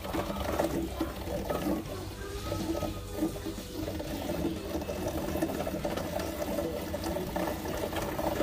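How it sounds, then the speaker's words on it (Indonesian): Water flowing into a newly replaced Coway purifier filter, a steady low hiss and rush of flow with a faint mechanical rattle and vibration, quiet and continuous throughout with no talking. "korang boleh dengar air mula masuk dan kita cek ada kebocoran"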